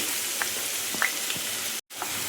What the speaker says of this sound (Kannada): ತುಪ್ಪ ಈಗ ಬಿಸಿಯಾಗಿದೆ ಇದಕ್ಕೆ ಕಟ್ ಮಾಡಿದ ಈರುಳ್ಳಿ ಹಾಕೊಳ್ತಿದ್ದೀನಿ